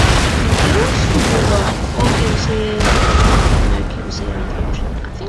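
Musket volleys and booming cannon fire crackle through a Napoleon: Total War custom battle between Prussia and the UK, a dense continuous din of shots and blasts with speech over it.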